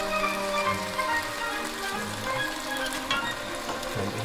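Wine poured into a hot pan of sweet Italian sausage and vegetables with dried thyme hisses and sizzles steadily as the alcohol cooks off, a close, continuous crackle with faint stirring and no voices.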